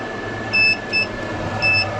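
A Xia inverter overloaded during a full-power battery discharge test beeps three times, short electronic tones at an uneven rhythm, each clear and close over a steady hum of equipment.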